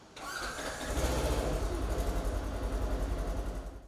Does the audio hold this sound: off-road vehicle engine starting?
yes